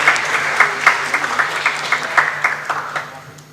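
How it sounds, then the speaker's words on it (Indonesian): Audience applause at a plaque handover during an MoU signing ceremony between KPU, BSSN and PT Garuda Indonesia, steady hall clapping with scattered sharper claps, fading toward the end. "Boleh beri tepuk tangan yang meriah Bapak Ibu"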